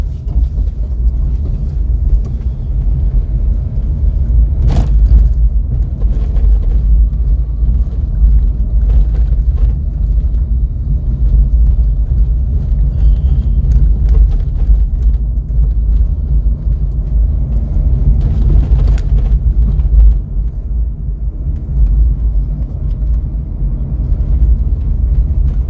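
A car drives along a mountain road near a market on the India–Nepal border, a continuous low engine and road rumble heard from inside, with a few brief clicks and knocks along the way.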